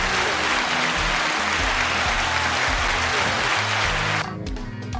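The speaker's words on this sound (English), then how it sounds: "So let me get a clap for that." A podcast studio audience claps in a dense, steady burst of applause for several seconds before it cuts off abruptly, with a voice speaking under and after it.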